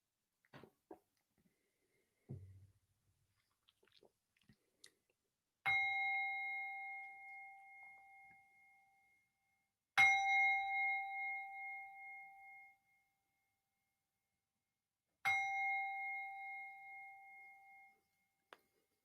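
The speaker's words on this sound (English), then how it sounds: "listening out for the bells to remind us" Three resonant meditation bell strikes spaced about five seconds apart, each ringing out and slowly fading in a quiet room, with a few faint soft knocks before.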